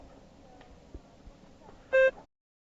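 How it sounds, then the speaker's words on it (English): A single electronic prompt beep in a TOEFL speaking practice test, a clean steady tone lasting about a quarter second over faint background hiss, followed by silence. "Begin to prepare your response after the beep."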